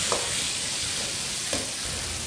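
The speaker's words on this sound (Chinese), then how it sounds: "锅内来少许油，油温稍热，下入擂好的大蒜、辣椒" Crushed garlic and chili hit hot oil in a wok, a steady close sizzle and frying hiss with a couple of light stirring scrapes, no talking.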